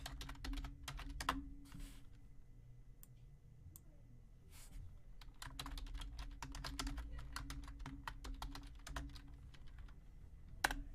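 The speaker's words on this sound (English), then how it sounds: "Sorry for all the typing noise in the chat" Rapid clacking of a computer keyboard being typed on, bursts of keystrokes with short pauses, close and fairly quiet.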